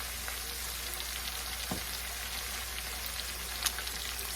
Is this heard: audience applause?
no